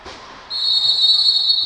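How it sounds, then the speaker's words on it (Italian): A referee's whistle at a women's roller hockey match in an indoor arena, one long, shrill, steady blast that starts partway through and holds to the end over faint crowd noise. "fischio dell'arbitro"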